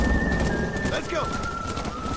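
Video game horses running in a Red Dead setting, a steady rumble of hooves under wind and ambient noise, with a faint whistling tone running through.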